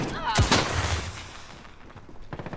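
A thermite grenade in Modern Warfare going off in a room: a loud close burst, then a sustained crackling, hissing roar that fades, with sharper gunfire-like cracks returning near the end.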